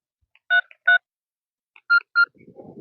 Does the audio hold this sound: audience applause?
no